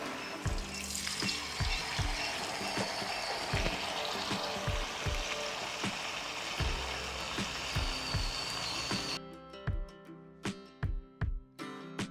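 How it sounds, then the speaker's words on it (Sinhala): Battered mun kavum pieces fry in hot oil with a dense, steady sizzle and bubbling, punctuated by soft plops and knocks as pieces go in. The frying noise drops away near the end, leaving only a few isolated taps. "මෙන්න මේ විදිහට අපි කපාගත්ත කෑලි මේ හදාගත්ත බැටර් එකේ හොඳට තවරගෙන රත් වෙච්ච තෙල් එකට දාගන්න ඕනේ"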